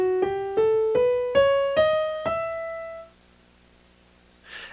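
E melodic minor scale played ascending on a keyed, piano-like instrument: six clear, evenly spaced notes climb step by step, the last ringing out and decaying into quiet before a faint rustle.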